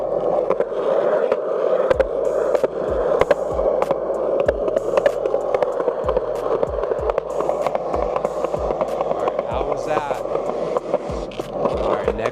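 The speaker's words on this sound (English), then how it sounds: "here is the first test on my skateboard with the DJI Osmo Pocket 3. So we're going to skate down this hill" Skateboard wheels roll steadily down a hill outdoors, with a continuous gritty rumble punctuated by repeated sharp clacks and bumps from pavement cracks, recorded close on a DJI Osmo Pocket 3 camera.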